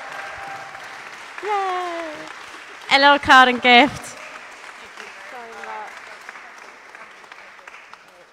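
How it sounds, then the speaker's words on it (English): A church congregation bursts into applause at a Sunday morning service, a few loud seconds of clapping and cheering, with people talking before and after it. "can we just give a big round of applause?"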